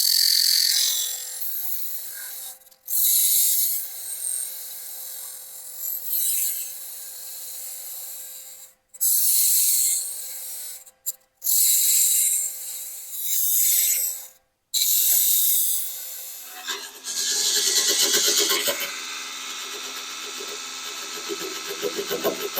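Wood lathe spinning at roughly 1300 RPM while a wine goblet is turned, with bursts of tool cutting and scraping on the wood broken by short pauses, ending in a rougher, lower cutting sound.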